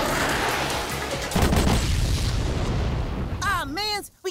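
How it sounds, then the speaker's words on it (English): Cartoon heat-seeking missiles explode in a loud, dense blast that rumbles on for a few seconds, followed at the end by a short burst of whooping, warbling synthetic sound effects. "Then let's see if you can dodge these heat-seeking missiles!"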